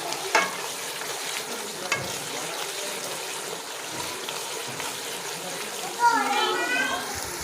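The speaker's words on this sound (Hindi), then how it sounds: "दही को अच्छे से फ्राई होने में काफ़ी टाइम लग जाता है।" Beef and yogurt sizzle in a pan while being stirred, a steady moderate frying hiss with scraping strokes and a louder sizzling burst near the end, with someone talking over it.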